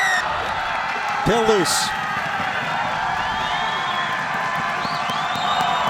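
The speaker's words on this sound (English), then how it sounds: "You can see the crowd really have come to life during the last 10 minutes." Rugby crowd at a national championship match between Saint Mary's College and Life University, a steady wash of distant cheering and murmur with brief whoops, running under a commentator's talk.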